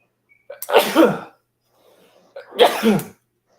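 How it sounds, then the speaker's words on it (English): Two loud sneezes close to the mic, a second or two apart, with a faint sniff in the quiet gap between them. "hold on, I'm about to sneeze"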